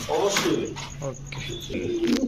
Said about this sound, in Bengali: এত অ্যাক্টিভ কবুতর যেটা ধরি সেটাই ডাকে খালি ডাকাডাকি লেগে